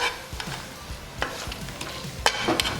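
Tomatoes are mashed and stirred in a frying pan, a spoon scraping and squelching in soft irregular strokes over a low sizzle, close by and without talk.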